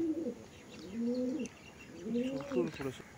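A female Andhra pigeon coos twice, with soft rolling calls heard up close over quiet background noise.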